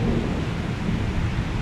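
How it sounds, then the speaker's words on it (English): A close thunderclap from a nearby lightning strike, loud and rumbling through the whole moment with a dense low roar, amid rain, with no voices. "That lightning strike was probably like the closest I've ever heard."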